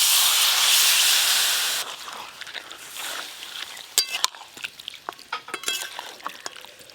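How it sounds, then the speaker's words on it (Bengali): Water poured into a hot pan of sizzling chicken kosha gives a loud, steady hiss of steam for about two seconds, then settles into quieter bubbling with scattered clicks and stirring. "এবার পরিমাণ মতো জল দেব।"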